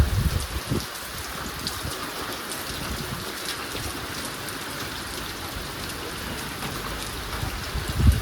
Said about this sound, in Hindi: इतनी ज़्यादा बारिश, इतना कोहरा